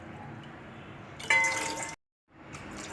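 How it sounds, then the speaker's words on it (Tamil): Water is poured into a cooking vessel while making ragi koozh, a steady splashing pour of about a second that stops abruptly, then a fainter trickle follows. "இப்போ அதே பாத்திரத்தில் 3 மடங்கு தண்ணி வந்து நம்ம ஊற்ற போகிறோம்."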